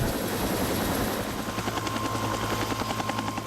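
A helicopter's rotor thumps rapidly and steadily over a broad engine roar, fairly close and continuous, with no voices.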